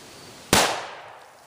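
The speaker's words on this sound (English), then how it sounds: "We're going to shoot 35 yards, and we're going to see the deflection, see if we have any deflection through this brush" A rifle shot fired through a tangle of brush toward a target 35 yards away, heard as one sharp, loud crack outdoors, followed by a decaying tail that fades over about a second.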